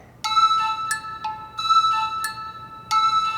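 A mobile phone ringtone plays a bright electronic melody in repeating phrases, starting abruptly after a brief quiet moment and sounding clear and moderately loud with no voices over it.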